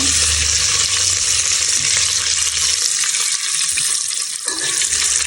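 Loud, continuous sizzling of a palak egg biryani mixture frying in a pan, with steady stirring scrapes throughout and a brief dip in the sizzle near the end; no voices.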